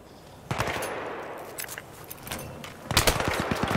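Automatic gunfire in the video game Battlefield 3, with bursts of rapid shots starting around half a second in and a louder, denser volley near the end over a steady battlefield background.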